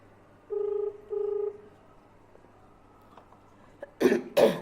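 Two short electronic ringback tones pulse in succession, steady and clear, followed by a couple of faint clicks and two loud bursts of noise.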